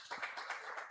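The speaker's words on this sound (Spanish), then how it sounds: "Regálele un aplauso esta mañana a nuestro Dios." A church congregation claps together during a morning service, a steady, fairly quiet run of applause with no voices over it.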